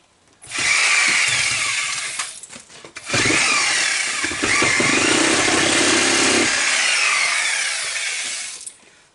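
A power drill bores into a wall to run wire, loud and close, whining in two long sustained runs with a short stop in between before winding down.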